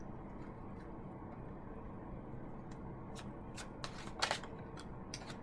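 Tarot cards are shuffled over a quiet, steady background hiss, with a few crisp riffles and snaps clustered near the end, faint and close with no talking.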